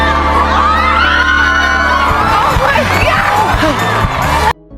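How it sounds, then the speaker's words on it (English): A street crowd in a film cheers a couple on, a loud mix of whoops, yells and shouting voices layered over a low sustained background, ending in an abrupt cut. "the staring crowd cheers them on"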